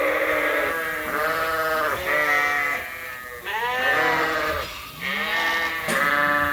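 Ewes on a farm bleat loudly and close by, several overlapping calls in a continuous chorus with brief pauses. Nobody speaks.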